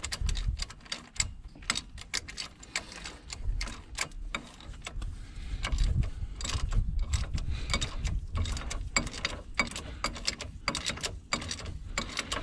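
Ratchet tightening a knuckle bolt on the front axle of a 2015 Ram 2500 4x4, rapid clicking and ratcheting in irregular bursts close by, over low mechanical rumble in a garage.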